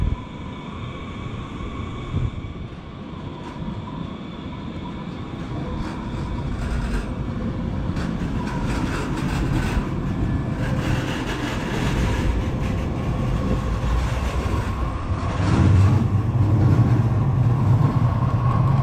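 Riding aboard a San Francisco L line streetcar, with a steady rumbling roll of the rail car and wheel noise that swells louder toward the end, no talking.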